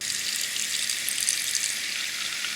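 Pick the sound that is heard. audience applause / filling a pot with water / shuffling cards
filling a pot with water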